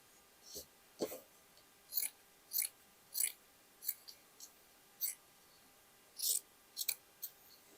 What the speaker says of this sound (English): Let's cut the stitchings.